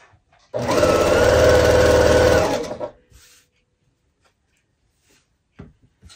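A home sewing machine stitching quilt star blocks runs in one loud, steady whirring burst of about two seconds, then stops, followed by faint clicks and handling noises nearby.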